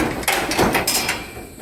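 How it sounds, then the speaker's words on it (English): A heavy door on a homemade firewood kiln swings open, giving a few close scraping, clanking knocks in quick succession with a brief metallic rattle, and no one talks. "I'll open one of these doors with one hand."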